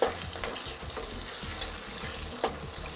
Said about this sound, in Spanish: Y removemos hasta que queden repartidas por todo el sartén